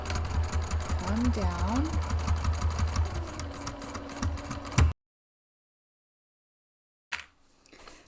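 A sewing machine stitches a 5/8-inch seam along a bag zipper in a loud, steady rhythmic run, then cuts off to silence before a brief restart, with a voice speaking briefly.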